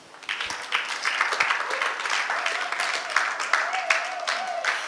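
A church congregation claps and cheers in acclaim of Jesus, a sustained wash of applause mixed with raised voices that swells and holds for several seconds.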